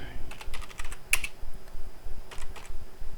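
Quick keystrokes on a computer keyboard as a MySQL dump command is entered for a Moodle database backup, coming in short uneven bursts with brief pauses, close and fairly clear, with no talking.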